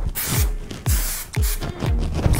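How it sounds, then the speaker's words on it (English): Hairspray spritzed onto a messy bun in three or four quick, loud hissing bursts, close up, each spray sharp at onset and tailing off, with no talk over them. "Take a little bit of spritz and spray."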